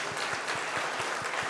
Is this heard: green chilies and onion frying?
no